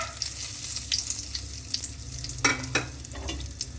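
Small cardamom pods, cinnamon sticks and cloves crackle in hot oil for a fish curry, making a steady near sizzle with a couple of sharper clinks and sputters.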